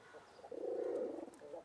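Giribaz pigeons give a soft, close coo, one low rolling call swelling in the middle and trailing off, faint and alone.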